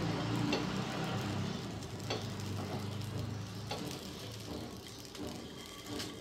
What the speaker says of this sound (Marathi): आता तवा तापवून घेतला आहे मी, आणि आपण तेल वगैरे काही लावून द्यायचं नाही आहे, डायरेक्ट आपण या लिट्टी अशा ठेवून द्यायच्या.